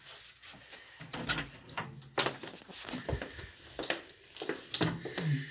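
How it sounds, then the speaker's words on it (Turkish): A house door in a village home is unlocked and opened, giving a series of close clicks, knocks and creaks spread over several seconds, with no talk. "Kapıyı aç bakalım."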